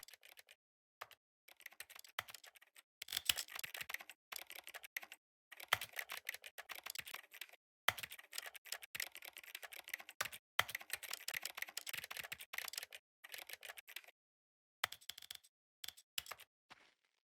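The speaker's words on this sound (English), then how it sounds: "Yeah, it does sound like a keyboard." Quick keyboard typing from The Stanley Parable clatters in bursts of rapid keystrokes separated by short pauses, crisp and close with no talking.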